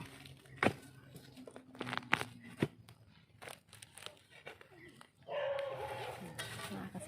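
Dogs from two neighbouring houses in rural Thailand bark in short sharp bursts, several yelps spread across the moment at middle distance, with rustling and a brief louder scuffle near the end, under a person talking.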